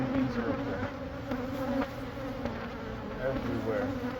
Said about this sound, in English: Look, how many bees are up there.